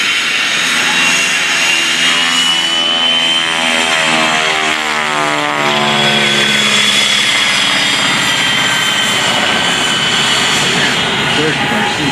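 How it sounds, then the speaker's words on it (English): Beechcraft C-45 twin-engine piston aircraft taxiing along the runway at an air show, a loud steady propeller drone with a sweeping rising-and-falling whine, close and continuous throughout. "Look at this gorgeous aircraft as it makes its way down the runway."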